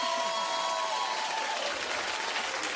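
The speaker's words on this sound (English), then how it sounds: "Clap if you just don't like him." A daytime talk show studio audience breaks into steady, dense applause, a continuous wash of clapping that stays loud and even across the whole stretch with a faint tone running under the first half.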